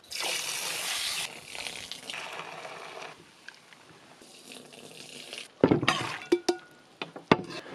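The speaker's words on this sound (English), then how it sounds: "we're gonna rinse it to get rid of all this lime and get the water running clear" Lime-cooked corn is rinsed under a running tap: a steady gush of water into a sink, then clinks and knocks of the pot or bowl as the kernels are handled close by, without speech.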